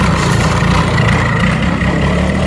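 Engine of an old Bajaj Chetak scooter, about 30 years old, running at idle after starting on the first kick, a loud, close and unbroken low rumble that holds steady throughout, alone without talk.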